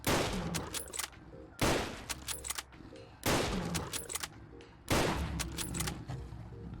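Rifle shots from a World War II rifle mod in Fallout 4, fired at a Deathclaw: four loud, close blasts about every second and a half, each trailing into a rumbling echo.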